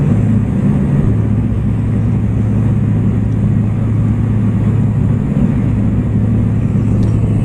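An aircraft engine in IL-2 Cliffs of Dover holds steady at 2200 RPM, giving a loud, constant low droning rumble that continues without change.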